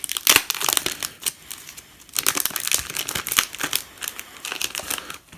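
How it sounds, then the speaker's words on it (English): Plastic packaging of a Penguins faction game expansion being torn and crinkled open, a series of close, crisp rips and rustles in bursts with brief pauses, no talking. "We got a nice little easy to rip part there."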